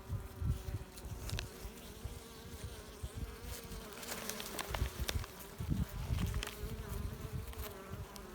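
A dense, steady insect buzz of many honeybees clustering outside a hive, droning together close by, with no voices.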